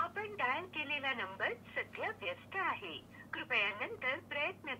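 Phone call audio plays at full volume through an Amazfit metal smartwatch speaker: a thin, telephone-quality recorded voice speaks in short bursts, close and clear.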